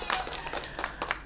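A handful of sharp hand claps in quick succession, close and fairly loud, breaking out in short scattered bursts over about a second of applause.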